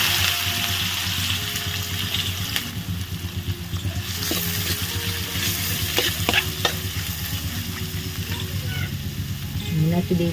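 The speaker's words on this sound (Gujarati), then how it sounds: "અને હવે આપણે વઘારમાં નાખવાની છે ડુંગળી" Chopped onion dropped into hot tempering oil already crackling with mustard seeds, cumin, asafoetida and curry leaves for a banana curry, giving a steady close frying hiss with stirring scrapes and clatter, no voices.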